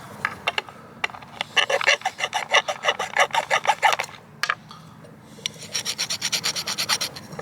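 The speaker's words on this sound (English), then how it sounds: "We need to take the burr off of it now." A metal file rasps against a cast lead weight to remove the burr, close and loud, in quick rhythmic strokes that run in two bursts separated by a short pause.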